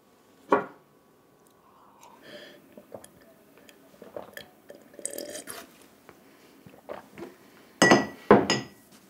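A glass of vodka being handled, giving a few sharp glassy clinks near the start and a louder cluster of clinks and knocks near the end, with quieter tapping and small drips in between and no talking.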